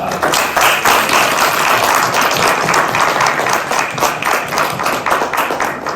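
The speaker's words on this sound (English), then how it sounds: "just one more round of applause for Dr. Wise" Sustained applause from an audience at a Stanford global health faculty presentation and Q&A, dense steady clapping filling the room throughout with no break.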